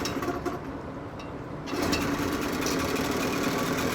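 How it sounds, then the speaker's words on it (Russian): A new Chinese outboard boat motor with a factory defect catches after repeated tries, jumping from a low churn into a steady, buzzy running drone that stays loud and even nearby. "Еще одна попытка запуска двигателя."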